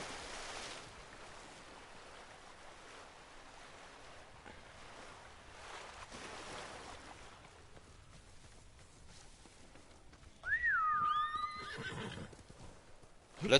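Horse in the Ghost of Tsushima game, ridden over a soft outdoor ambience of wind and surf, gives a sharp rising whinny near the end, followed by a few faint clopping hoofbeats.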